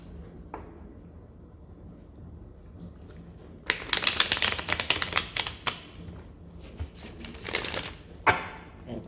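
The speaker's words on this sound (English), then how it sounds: "Okay, I'll do another shuffle." A deck of cards is riffled and shuffled up close in quick bursts of rapid flapping clicks, with quieter moments between.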